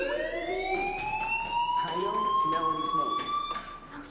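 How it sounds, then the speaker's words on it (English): A fire alarm rings in the video game Life is Strange, a steady electronic tone with strong rising harmonics that holds loud and continuous throughout, with some background clatter underneath. "Hey, do you hear that fire alarm?"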